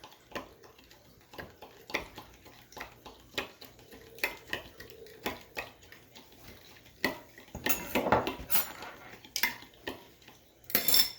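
A spoon stirs a homemade sauce for pulled pork after a teaspoon of sugar goes in, giving repeated close scraping and clinking against the pot in an uneven rhythm, with a busier burst of clatter near the end and no talking.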